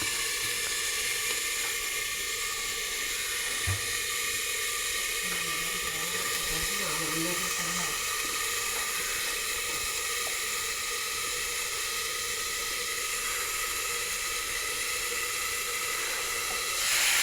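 Prawns fry in a pan with a loud, constant sizzling hiss that runs throughout, with a brief knock near the start and faint low sounds underneath.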